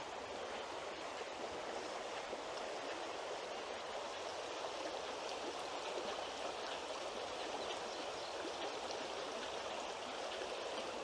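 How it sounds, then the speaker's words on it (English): Oriskany Creek flows steadily in a dense, even rush of water that holds constant throughout with no voices. "This is the Oriskany Creek still."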